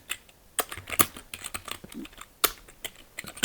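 Keys tap on a computer keyboard during typing practice, quick uneven clicks with a few sharper strokes, close and clear with no voices.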